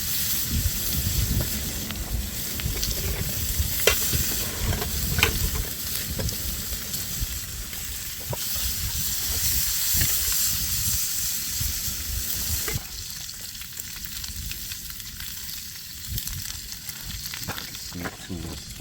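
Food sizzling and frying on a camping grill over fire outdoors in the desert during winter truck camping, a steady crackling hiss with scattered pops and a few louder spits, close and continuous, no talk.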